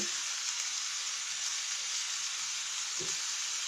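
Zucchini sauté sizzles steadily in a hot pan, making a close, constant frying hiss, with one soft stirring bump around three seconds in.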